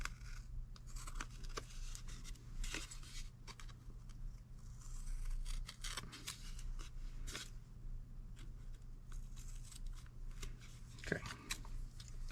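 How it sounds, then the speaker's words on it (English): Quiet, irregular snips and crinkly scraping of scissors working through sticky tape, close by, with a low steady hum underneath and no talking. "And that's kind of all we need to do with the scissors."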